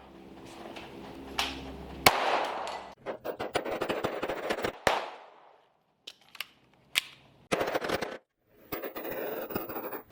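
A Sig Sauer P322 pistol fires at a range, loud sharp reports coming singly and in quick strings with short gaps, some dull mechanical clicks and handling noise between them.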